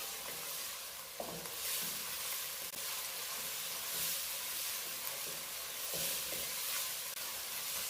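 Bhuna chicken masala with garlic sizzles steadily in a pan while being stirred, giving a continuous frying hiss with soft scraping stir strokes, close and alone.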